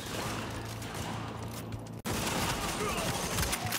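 Heavy, continuous gunfire in The Division, a dense fusillade of overlapping shots that breaks off for an instant around the midpoint and then resumes at full intensity, with faint voices in the mix.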